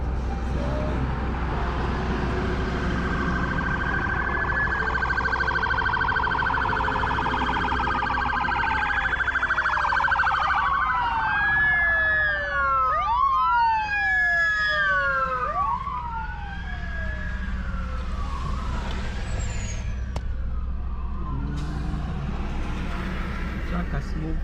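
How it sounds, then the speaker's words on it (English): An ambulance siren approaches through heavy highway traffic stalled by an accident on I-40 in New Mexico, its rising and falling wails growing louder mid-clip then fading, over a constant low engine rumble and occasional talk inside the vehicle. "Looks like ambulance coming."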